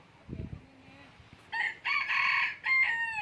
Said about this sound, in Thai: เสียงไก่อารมณ์ดีครับ